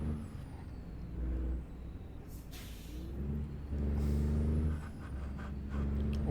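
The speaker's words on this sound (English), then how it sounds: "Well, my truck doesn't sound very healthy, does it? That gearbox is a bit knackered." A heavy truck's engine in a truck simulator set in Missouri, its gearbox worn, drones and rises in pitch through shifts, with a hiss of air brakes partway through, loud and steady with no voices over it.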